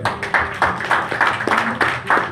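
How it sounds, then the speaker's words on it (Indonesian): A small audience at a cancer-recovery testimonial gathering claps hands in a brisk, steady rhythm, the claps close and fairly even, with nobody speaking. "Tepuk tangan untuk SOP."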